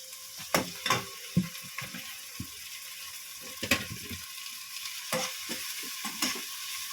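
Chicken and vegetables stir-frying in a pan with soy and oyster sauce, a faint sizzle under a series of close scraping stirs and utensil knocks, with no talking.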